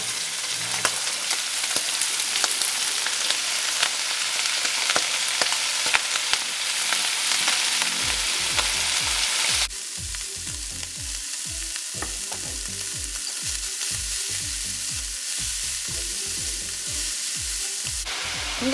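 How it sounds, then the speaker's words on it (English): Broccoli rabe and Italian sausage sizzle and fry steadily in a pan, a loud continuous crackle broken by the scrape and clatter of stirring, with no talking. "I'm going to go ahead and add the broccoli rabe."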